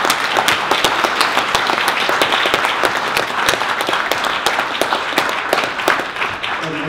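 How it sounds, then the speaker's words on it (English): Loud, sustained applause from a large audience, many hands clapping continuously without a break. "can I get a huge round of applause for everybody who helped work on anything"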